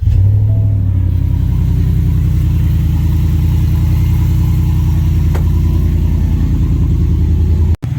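A 2021 Ford F-150 with a muffler delete starts up and settles into a loud, deep, steady idle rumble, close and continuous for several seconds.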